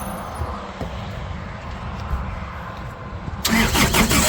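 A Laymor sweeper engine with a no-start fault cranks for several seconds with a steady churning rumble, then suddenly grows louder and harsher near the end, close by.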